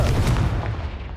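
A Confringo blasting spell explosion in the game Hogwarts Legacy, a single loud, dense boom with a rumbling low end that fades out over about a second.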